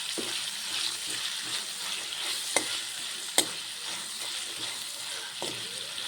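Semiya (vermicelli) upma frying in a pan, with a steady bright sizzle throughout and a few sharp scrapes and taps of the stirring spoon against the pan, close and moderately loud, no talking.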